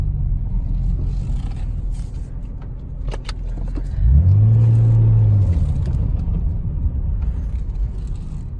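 A Nissan Skyline GT-R R34 engine idles with a low rumble, then revs up briefly in a deep rising and falling sweep before settling back, close and loud, alongside a few light clicks and rattles.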